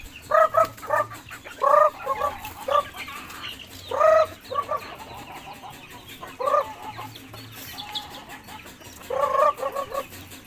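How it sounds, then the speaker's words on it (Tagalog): Pet chickens cluck and squawk while being fed, with bursts of close clucking calls repeating irregularly over a quiet background, no talking. "Papakain na naman tayo ng ating mga alagang manok."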